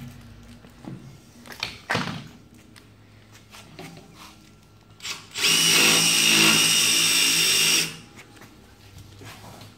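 A power drill drives domed-head 14-gauge self-drilling screws into steel while a horse stable panel with a ply divider is assembled. A few scattered knocks come first, then one loud, sustained whine of the drill for about two seconds.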